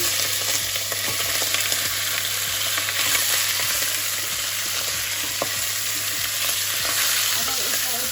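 Organic chicken fries and sizzles steadily in a hot pan while being stirred, with a dense continuous crackle, scattered scraping clicks of the stirring utensil and a low steady hum beneath.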